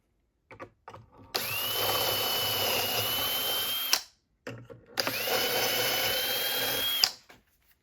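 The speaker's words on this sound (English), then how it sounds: "we're ready to drill the holes" A power drill boring holes in cabinet drawer fronts, two steady high whirring bursts of about three and two seconds each, close and clear with short quiet gaps.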